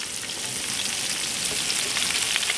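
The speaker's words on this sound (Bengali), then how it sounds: "এখন পেঁয়াজটাকে খুব ভালোভাবে ভেজে নেবো" Chopped onion and torn green chili frying in a pan with bay leaf, dried red chili and whole spices, giving a steady, close, dense sizzle throughout with no voices.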